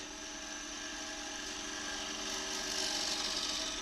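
Wood lathe spinning a bowl blank while a gouge cuts along the bevel, a steady continuous whirring hiss with a broad scraping texture that holds evenly and swells slightly toward the end, with no talking.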